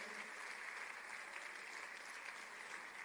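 Audience clapping at a tech festival in Enugu: a continuous wash of applause from a large crowd, even and sustained without pauses for the whole stretch.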